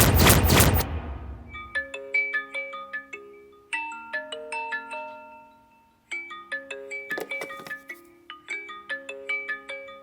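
A mobile phone rings with an incoming call, its electronic ringtone repeating in bright melodic bursts after a loud opening thud, clear and close with no talking.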